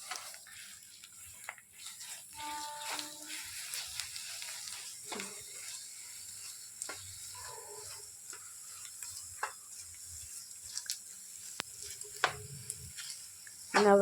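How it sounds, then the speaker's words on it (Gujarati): A spoon stirs sukhdi mixture with a spoonful or two of cream in a hot pan, giving soft, irregular scrapes and taps over a quiet, low sizzle close by. "અને આપણે તેને હલાવી લેશું"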